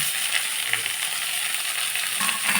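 Garlic and gotu kola leaves fry in hot oil with a steady, close hiss and crackle that holds constant throughout, with faint scraping of stirring underneath.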